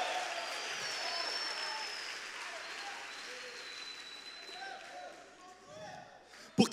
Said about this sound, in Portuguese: Você pode aplaudir a Jesus, você pode celebrar essa palavra.